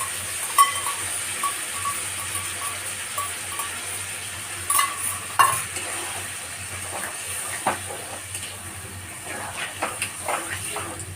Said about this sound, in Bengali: এবার আমি এর মধ্যে এই যে একটা বাটিতে সব রকম সস মিক্স করে রেখেছিলাম সেটা ঢেলে দেবো।